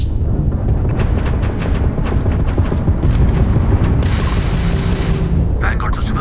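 Spaceship weapons fire in Starfield as a loud, continuous barrage of booming blasts with sharp bursts layered on top, heavy and close throughout.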